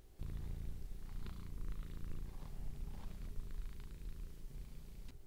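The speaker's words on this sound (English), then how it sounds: "capture a little bit of his purring recording" A cat named Kachu purrs close and steady, a low rumbling drone that continues evenly for several seconds with no voices.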